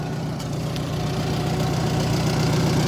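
An old farm tractor engine idles steadily at close range, a low, even rumble with a slight knocking throb that holds level throughout.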